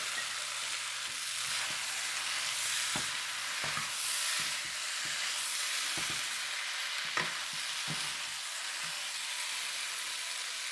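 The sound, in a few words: onions sizzling in a pan for pork curry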